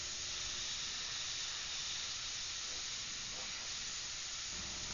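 An airbrush sprays paint onto a figure's face in a continuous, even, faint hiss that holds steady without a break.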